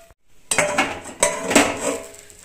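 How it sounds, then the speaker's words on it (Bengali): Metal plate set over a pan as a lid, a sharp clatter followed by a second ringing clank and a short rattle, close and loud, with no talk. "এবার আমি একটা থালা দিয়ে চাপা দিয়ে দেব,"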